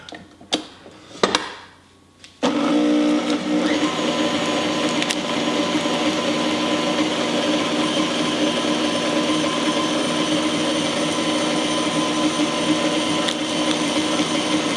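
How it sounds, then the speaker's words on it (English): An electric mixer whisks soft unsalted butter into egg yolks on low speed for a gluten-free Yule log, starting after a few knocks with a steady, close, even motor whir that holds to the end. "we're going to take 6 ounces of soft, unsalted butter, and we're just going to whisk that in on low speed"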